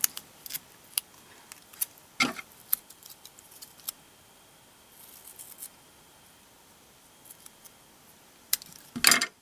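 Scissors snipping through paper and tape close by, a scattering of sharp isolated cuts with quiet gaps and a louder cluster near the end, no talking.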